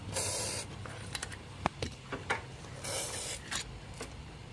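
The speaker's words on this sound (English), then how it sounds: "Gotta spray these 4 screws." Two bursts of aerosol spray hiss out close by onto four screws on a 2005 Mazda 3 rear wheel hub, one at the start and one a few seconds later, with small clicks and handling noises in between.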